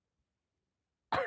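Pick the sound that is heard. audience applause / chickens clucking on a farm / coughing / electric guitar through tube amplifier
coughing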